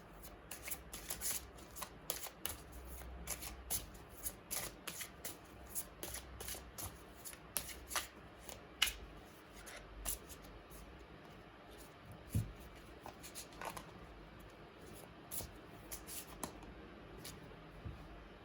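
A deck of Romance Angels oracle cards is shuffled up close in repeated bursts of crisp riffling and flicking, with brief pauses between handfuls.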